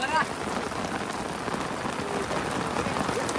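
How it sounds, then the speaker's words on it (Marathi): Steady heavy rain pours down, a dense continuous hiss of drops drumming on surfaces, with a faint voice briefly at the start. "पावसाने जोरदार पाऊस"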